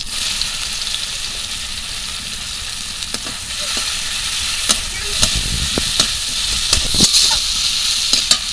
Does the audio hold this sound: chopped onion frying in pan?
yes